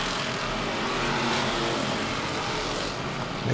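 Hobby stock race cars roar past on a short track in a dense, continuous wall of engine noise that holds steady, with a slight lift right at the end.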